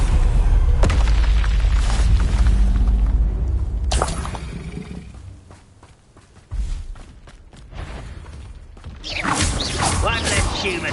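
Explosive spell blasts of Bombarda and Confringo in the Hogwarts Legacy game, a run of loud booming impacts and rumbling debris over a steady game soundtrack, with a sharp burst near the end.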